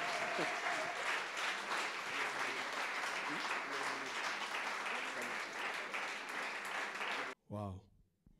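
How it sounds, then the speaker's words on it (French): A church congregation gives a pastor long, loud, sustained applause with crowd noise, ending abruptly before a brief spoken voice. "Applaudissons très fort pour notre pasteur et notre apôtre."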